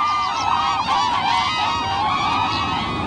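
Cranes calling in a marsh in Bhutan's Phobjikha Valley, a steady chorus of loud, overlapping honking cries close by, with no pauses across the whole stretch.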